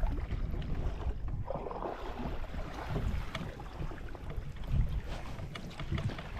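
Canoe paddled on the French River: steady water swishing and lapping against the hull, with wind buffeting the microphone throughout, no voices.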